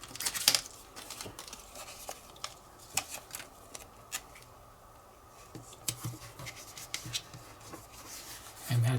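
Adhesive tape being handled and pressed onto parts of a Ghostbusters Ecto-1 model kit: scattered crisp crinkles, rubs and short peeling snaps close by, with a louder burst near the start and quiet gaps between.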